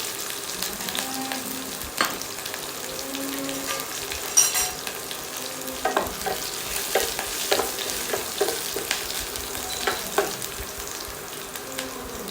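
Hot oil sizzles steadily as green chillies, curry leaves and red chillies are tempered, with scattered crackles and pops and occasional utensil clinks, close up and without talk.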